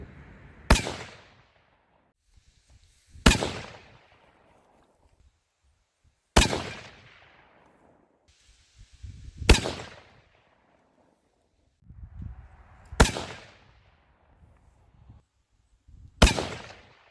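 Rifle shots fired at a range with 160 grain Norma Tipstrike bullets, six sharp loud reports spaced a few seconds apart, each trailing off in a short echo.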